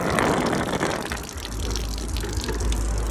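A Flow Pro float valve sucks air with a loud gushing, gurgling rush of water and air, strongest at first and then settling into a steadier low churning flow.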